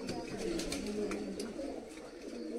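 Low, soft cooing from a fancier's pigeons, continuous and fairly close, with faint ticks and rustles in the background.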